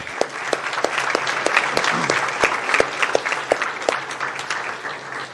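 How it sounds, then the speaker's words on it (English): Applause at a Tomball ISD school board workshop meeting honoring retiring staff, a steady round of clapping from a room of people with sharp individual claps standing out, continuing for several seconds. "We'll applaud that real quick."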